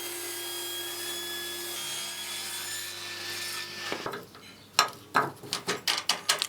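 A saw rips wooden stock into staves about 17 mm thick, first a steady whining cut, then a series of rhythmic, close scraping strokes as the board is worked through.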